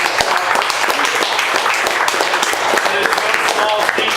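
A crowd at a homebrew competition awards ceremony applauds the three competing teams: dense, steady clapping at close range that fills the whole stretch, with a few sharper claps standing out.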